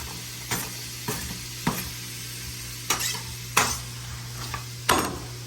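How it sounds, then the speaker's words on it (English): Chopped ingredients for a pasta sauce stirred in a hot pan, steady sizzle with a low hum underneath and several sharp scraping clatters of the utensil against the pan at irregular intervals. "Stir that up a little bit more."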